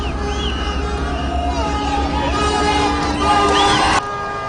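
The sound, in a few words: crowd cheering to receive the president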